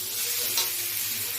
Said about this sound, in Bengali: লঙ্কা আর রসুন বাটা দিয়ে নেব, দিয়ে এটাকে আমি ভালো করে ভেজে নেব।